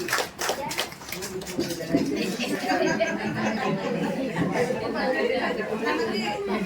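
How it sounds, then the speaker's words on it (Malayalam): An audience at a women's association unit conference claps briefly to approve a new committee, then the clapping fades into lively chatter and some laughter. "എല്ലാവരും കൈയടിച്ച് അംഗീകരിക്കണം"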